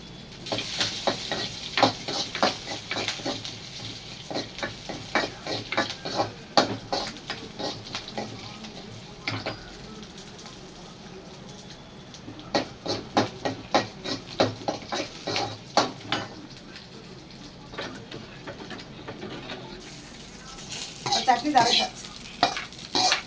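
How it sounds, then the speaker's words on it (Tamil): Oil sizzles steadily in a pan while onion and chilli are fried to temper chutney, a utensil stirring and scraping repeatedly against the metal, close by, with no talking. "சட்னி தாளிக்கலாம் கொஞ்சம் வெங்காயம் போட்டு தாளிங்க நல்லா இருக்கும்"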